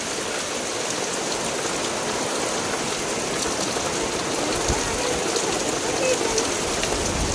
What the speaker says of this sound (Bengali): হ্যাঁ অনেক বৃষ্টি, বিশাল ধরে ঝড় বৃষ্টি আছে